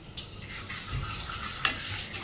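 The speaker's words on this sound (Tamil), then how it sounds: "அரைச்ச பேஸ்ட்டை இதுக்குள்ளே போட்டுடணும். போட்டு 2 நிமிஷம் வதக்கணும்." Soft sizzling and stirring of onion paste in a pan, a low steady frying hiss with a brief scrape of a spoon near the end.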